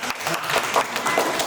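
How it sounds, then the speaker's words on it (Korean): A brief burst of close, fairly loud clapping from a small group welcoming guests at a church during a short-term mission trip in Kaohsiung, Taiwan, steady and dense with no pause. "박수로 환영합니다"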